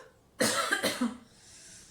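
A single close, sharp cough bursts out in two or three quick hacks while eating spicy noodles, then fades into quiet.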